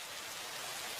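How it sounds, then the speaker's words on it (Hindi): Heavy rain pouring outdoors, a dense, steady hiss of downpour filling the whole short stretch with no breaks and no voices. "इतनी तेज की बारिश दिखाई नहीं दे रही क्या?"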